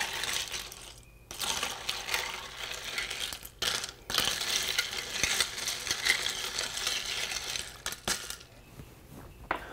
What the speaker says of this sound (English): I'm not going to shake it. I'm just going to stir it.